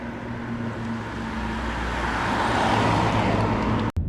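Steady road noise and engine hum fill the cabin of a Volvo XC40 B4 compact SUV with a 1969cc inline four-cylinder single-turbo petrol engine, swelling gradually as it drives, with a brief dropout near the end.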